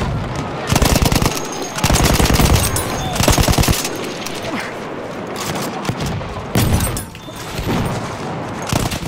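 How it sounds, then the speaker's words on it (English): Sustained bursts of BAR automatic rifle fire in Battlefield 1 gameplay, loud and rapid, with overlapping game gunfire and explosions filling the background throughout. "Now I'm expected to kill all of them with my BAR."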